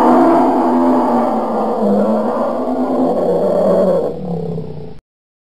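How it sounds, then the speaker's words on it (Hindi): A bear roars in a long, loud, continuous growl that holds steady for about five seconds before cutting off abruptly. "Beer, B E A R, beer यानी भालू।"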